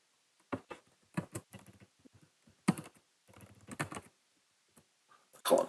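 Bursts of computer keyboard typing in short clusters with pauses between, close and fairly quiet, while a tab is renamed in Mastercam software; no talking.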